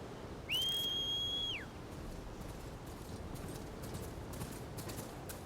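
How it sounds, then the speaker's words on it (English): A single clear whistle in Horizon Forbidden West, a sustained rising tone held for about a second before sliding down, loud against a steady ambient background, followed by faint soft clicks. "That whistle just reminds me of Final Fantasy X."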